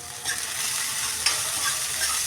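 Chopped vegetables frying and being stirred in a pan while making wheat rava upma, a steady soft sizzle with light stirring scrapes throughout, close and moderately loud with no talking.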